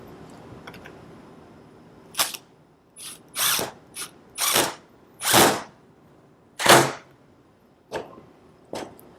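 A power drill drives a screw into a wooden solitary bee house, whirring in about eight short, close bursts of varying length separated by brief pauses, with no talking.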